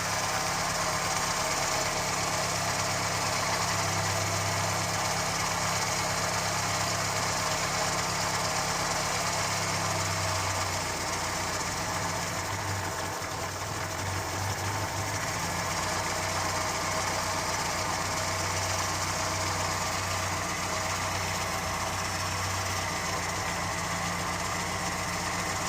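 A Ford Fiesta Mk1 engine idles steadily after a carburettor adjustment, a close, continuous low rumble with a slight unevenness that settles to a smoother, slightly higher idle partway through, with no talk over it.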